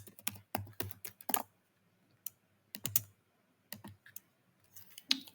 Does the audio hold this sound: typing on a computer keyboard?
yes